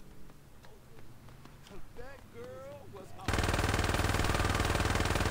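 Rapid automatic gunfire in Saints Row 2 bursts in loud and continuous about halfway through, following quieter game ambience with chirping and bird-like squeaks and muffled background noise.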